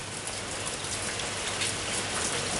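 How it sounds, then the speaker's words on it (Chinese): Rain falling on a plastic tarp spread over a frame outdoors in a radio drama, a steady, even patter of many drops without a break, fairly soft and with no voices. "大细滴的雨水随风轻轻滴落来，拍伫芳布的声音，就亲像是咧拍鼓。"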